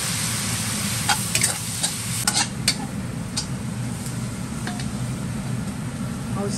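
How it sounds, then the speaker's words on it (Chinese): Cured pork stir-fries with green and red peppers in a wok, a soft continuous sizzle under scattered light scraping and ticking of a utensil against the pan. "腊肉炒香，加入青椒，加点红椒"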